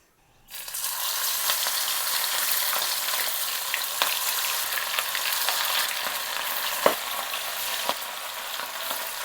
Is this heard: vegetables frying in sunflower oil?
yes